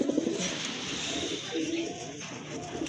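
Pigeons in a pigeon seller's collection coo nearby in a soft, continuous, throaty murmur that rises and falls, with faint voices in the background.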